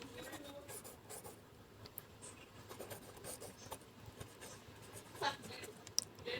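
Pen or pencil writing out a maths question by hand during a class lesson, a steady soft scratching that runs throughout, with the teacher talking quietly over it.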